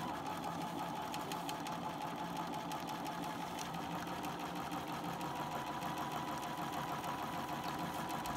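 A sewing machine stitches a brim toile with a continuous, even mechanical whirr and fast needle chatter, running steadily at moderate volume with no pauses.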